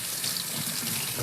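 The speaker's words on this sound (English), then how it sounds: "give that a quick rinse." Tap water runs into a kitchen sink as a whole turkey is rinsed, a steady, close, moderately loud hiss and splash lasting the whole moment with no voices.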